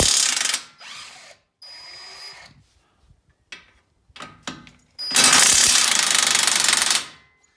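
A ratchet wrench loosens a nut on the CV axle of a 2007 Subaru Impreza WRX wagon. Loud, close bursts of rapid clicking come in short spurts, then one long sustained run near the end, with no talk.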